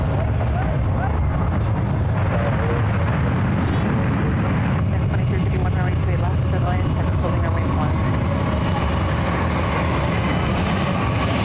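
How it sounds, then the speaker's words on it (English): British Airways Airbus A380 at San Francisco airport, a steady broadband jet roar heard from a distance with low rumble, continuous, with people talking over it. "This is the second British Airways A380 of the day here at San Francisco."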